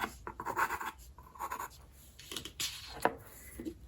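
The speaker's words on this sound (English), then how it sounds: "I still have that purple it's a purple color pencil" A purple colour pencil scratches words onto art journal paper, with short close strokes in an uneven rhythm and occasional sharper ticks, fairly quiet and without speech.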